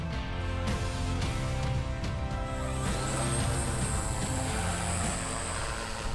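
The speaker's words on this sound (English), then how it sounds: "Automatic takeoff can be achieved with or without a pre-programmed mission." An IF800 drone lifts off in an automatic takeoff, its propellers producing a loud, steady buzzing whir that holds throughout, with a higher whine rising in the second half.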